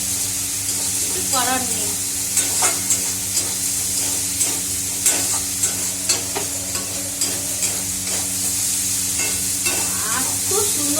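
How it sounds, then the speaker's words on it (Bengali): Spices and water fry and spatter in a hot pan, a loud continuous sizzle punctuated by stirring scrapes and pops, close up, while someone talks briefly over it. "তো পড়ছে মশলা, জল যা যতক্ষণ ইয়ে হবে না ততক্ষণ ছিটে পড়বেই"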